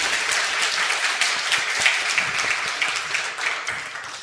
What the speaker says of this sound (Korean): 우리 다 같이 격려의 박수 하겠습니다.